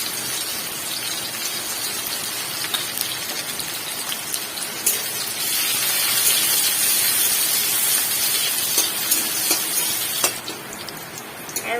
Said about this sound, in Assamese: এইখিনি জিৰা দিলোঁ, পিঁয়াজখিনি দিম। পিঁয়াজ, জলকীয়া আৰু নহৰুখিনিও দি দিছোঁ।